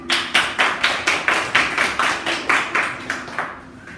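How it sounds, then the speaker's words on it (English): Slow, evenly spaced claps, about three per second, from what sounds like one or a few people, loud and close with no talking. "Please give him a round of applause."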